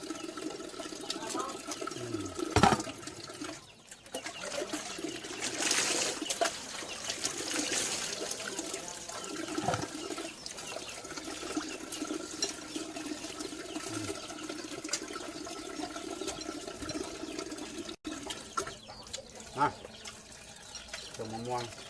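Water trickles and splashes intermittently at low level, with soft knocks and handling noises between pours and faint birds in the background.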